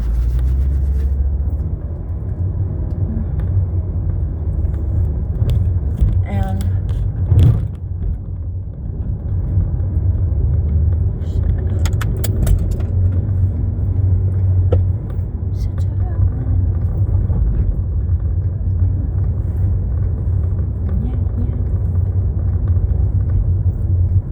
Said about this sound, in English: I don't want to stall my car.